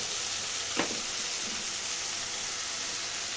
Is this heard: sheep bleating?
no